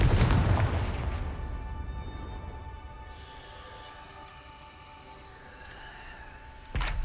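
A Confringo fire spell explodes in Hogwarts Legacy, a loud booming blast at the start that rumbles and fades into a low game ambience, with a sharp thud near the end.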